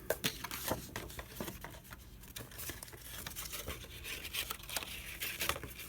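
Scissors snipping through paper for a journal cover, a quiet close series of irregular cuts and crinkles with light handling noise.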